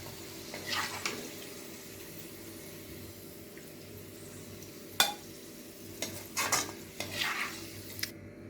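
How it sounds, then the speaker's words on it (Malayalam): Onions frying in hot oil while being stirred with a spoon give a quiet continuous sizzle, with a few sharper scrapes and clinks of metal near the end. "ഉള്ളി വറുത്തത് നമുക്ക് കോരിയെടുക്കാം"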